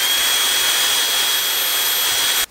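A powerful hair styling air blower runs loudly and steadily, a dense jet-like roar that holds constant, then cuts off abruptly at the very end.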